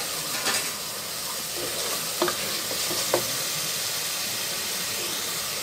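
Tomatoes with salt, turmeric and chili sizzle steadily in a pan, a loud continuous frying hiss with a few light clicks and stirring scrapes.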